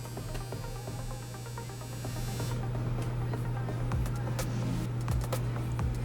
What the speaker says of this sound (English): Evidently my dryer want to go off while I'm talking.